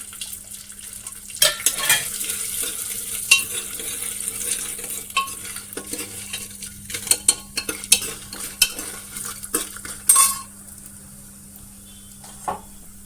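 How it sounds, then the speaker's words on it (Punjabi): Cumin seeds and wadiyan roast in hot oil in a pan for Amritsari aloo wadiyan, with a steady background sizzle broken by scattered scraping and clinking stirring sounds, close and moderately loud, with no talking. "ਜੀਰਾ ਨੂੰ ਥੋੜਾ ਭੁੰਨਣ ਤੋਂ ਬਾਅਦ ਜੀ ਆਪਾਂ ਵੜੀਆਂ ਪਾ ਦੇਣੀਆਂ"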